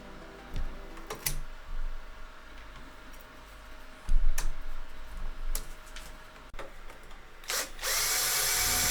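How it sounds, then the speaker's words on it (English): A power drill bores a hole into a 3D printer in several short, loud whirring bursts separated by pauses, with scattered clicks and knocks from the work. "I'm gonna start by drilling a hole in the printer to run some wires to an extra motor driver on the board"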